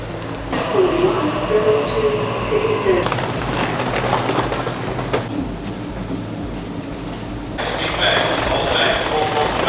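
Train interior rumble with steady low-frequency rolling noise and faint clatter on an airport-to-city train in Australia, people talking nearby over the continuous hum of the carriage.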